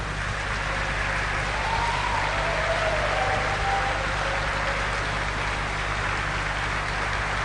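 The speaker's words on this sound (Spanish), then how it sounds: "Aplauda entonces." A church congregation applauds during a Spanish-language sermon, producing a dense, continuous wash of clapping that sounds distant and hissy, steady and unbroken for the whole stretch.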